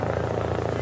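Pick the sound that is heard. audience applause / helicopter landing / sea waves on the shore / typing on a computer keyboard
helicopter landing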